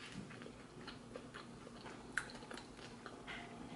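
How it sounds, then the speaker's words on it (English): Close, quiet chewing on a crunchy vegan vegetable spring roll wrapper, with soft repeated crackles and crunches at an uneven pace and one sharper snap partway through. "this wrapper, guys, is really, really crunchy"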